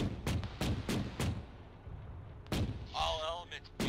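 Heavy gunfire in the video game Arma, attributed to a 73 mm gun, sounds as several sharp booming shots in quick succession, then a pause and another loud blast with a rumbling tail.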